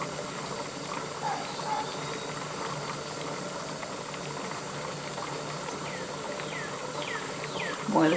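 Tomatoes are being processed in a pressure canner on a stove, which gives off a steady boiling rumble and a constant steam hiss throughout, with a few faint squeaks and a slight surge at the very end.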